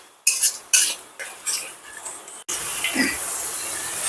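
A spoon stirs a Bengali-style paneer butter masala base, seasoned with salt and a little turmeric, in a pan. Close, loud scrapes and clinks come in bursts, followed by a steady sizzling hiss.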